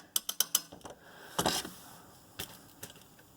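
A crescent wrench works a nut on a belt pulley of a VW Mk4 TDI ALH engine, giving a quick run of four sharp metallic clicks, then a louder scraping slip and a few scattered ratchety taps, close and alone.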